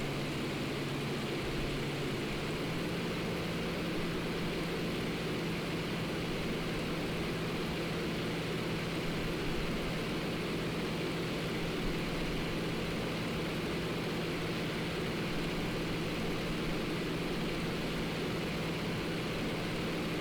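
Yak-52 aircraft in X-Plane 11 with the cockpit open, its engine holding a steady, loud low drone with broad rushing noise through the whole stretch.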